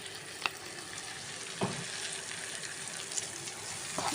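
Whole cumin and turmeric powder sizzle steadily in hot oil for a Goan mushroom chilli fry, with occasional spoon knocks against the pan cutting through the constant frying hiss.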